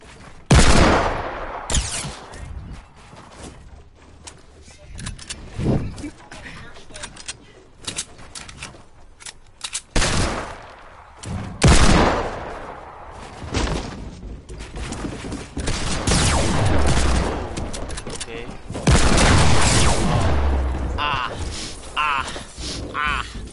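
Desert Eagle pistol shots in a video game ring out in sharp, scattered bursts, some close and loud, others quicker and clustered, over an ongoing background of talking voices.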